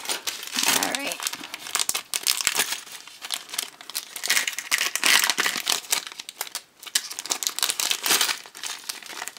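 Plastic blind bag of Angry Birds dog tags being torn open and handled, with continuous close crinkling and rustling in irregular bursts, and a voice talking intermittently underneath.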